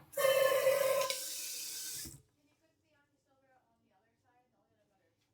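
Tap water pours loudly into a pot for about two seconds, then the flow cuts off abruptly, leaving near silence with only a few faint clinks afterward.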